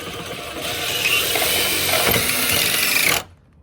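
A power driver runs a screw into a gutter in place of a nail, a steady mechanical whir lasting about two and a half seconds before stopping abruptly, close and moderately loud.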